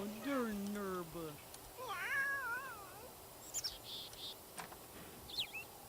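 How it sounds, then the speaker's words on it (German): A cat in The Sims 3 meows loudly twice in quick succession, drawn-out and wavering, followed by a few faint chirps and clicks in a quiet setting. "Welche Katze schreit, ha?"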